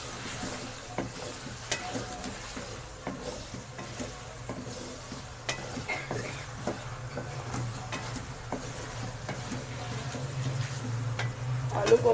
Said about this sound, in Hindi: आलू को 10 मिनट तक भूनेंगे।